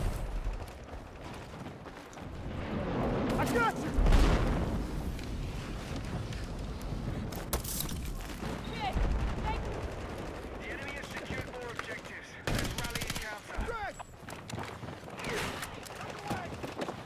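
Battlefield 6 firefight with frag grenade blasts and rapid gunfire, dense bursts and loud impacts piling over each other, with a heavy boom near four seconds and sharp cracks around eight and twelve seconds.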